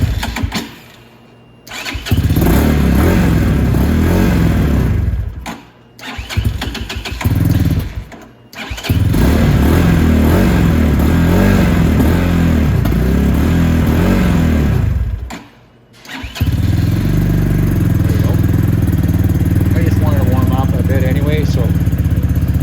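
A Venom X22R Max 250cc motorcycle engine cranks and fires, catching after a couple of short attempts, then idles loudly and steadily up close with a throaty rumble.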